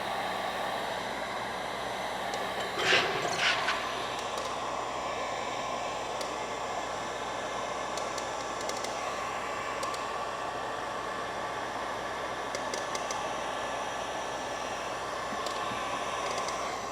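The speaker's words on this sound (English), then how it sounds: "You always want to keep the heat gun moving." A heat gun blows a continuous, even hiss of air while protection film is applied to a Tesla Model 3 headlight, with a few brief clicks and handling noises over the steady airflow.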